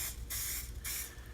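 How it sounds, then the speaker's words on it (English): Cooking spray hisses onto a bread pan in two short, close bursts separated by a brief pause, with no talking. "give it a good spray. Make sure you spray as much as you can"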